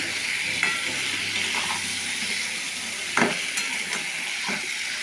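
Spice paste frying in oil for a katla fish curry, a strong, close sizzle broken by several scrapes and clatters of a spoon stirring against the pan.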